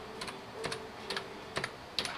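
Light, close clicks of a computer keyboard come in small quick clusters as a Lego set number is entered into a web browser, with no talking.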